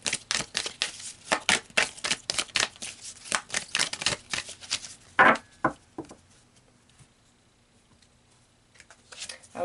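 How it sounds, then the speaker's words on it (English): Tarot cards are shuffled in a rapid run of crisp riffling snaps and flicks, close and fairly loud, then a few slower slaps as cards are pulled, followed by near silence and a last soft shuffle. "So let's pull some more cards here."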